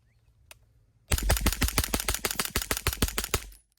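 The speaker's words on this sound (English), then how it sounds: "Springfield Armory KUNA. And a mag dump." A Springfield Armory KUNA fires a rapid magazine dump through a HuxWrx Flow 9K Ti suppressor: a fast, loud string of about twenty sharp suppressed shots after a quiet second, close by.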